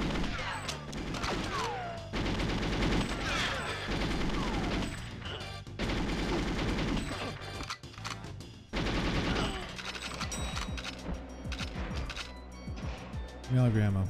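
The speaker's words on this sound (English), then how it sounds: "Damn, I'm starting off with an Uzi." Uzi fire in GoldenEye 007, rapid loud bursts of automatic shots in several long runs with short gaps, mixed with game effects and someone talking over them.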